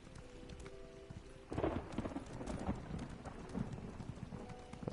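Horse hooves clop along over a rumbling game ambience, the sound swelling partway through and continuing unevenly.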